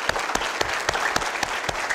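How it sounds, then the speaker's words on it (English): An audience at an Islamic lecture on Laylatul Qadr breaks into applause, a close, dense burst of clapping with distinct sharp claps punctuating it. "for every mom and dad, round of applause."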